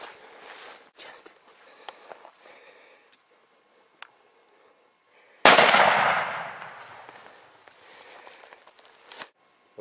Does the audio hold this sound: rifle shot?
yes